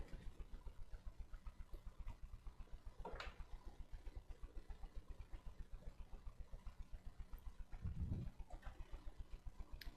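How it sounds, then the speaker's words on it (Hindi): A tractor engine idles close by with a steady low chugging rhythm. It swells briefly near the end and has no talk over it. "देखो ट्रैक्टर की आवाज आ रही है।"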